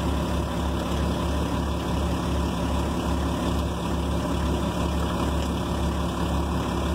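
An articulating dump truck's diesel engine idles with a steady, low throbbing rumble, heard at moderate level without talk.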